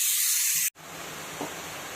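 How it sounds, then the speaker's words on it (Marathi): Chopped onions sauté in a hot pan for a Maharashtrian zunka, giving a steady close sizzling hiss that cuts out for a moment and then carries on at the same level. "हा कांदा आपण मऊ होईपर्यंत आणि गुलाबी रंगावरती परतून घेऊयात."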